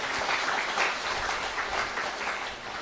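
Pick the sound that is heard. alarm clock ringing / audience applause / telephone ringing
audience applause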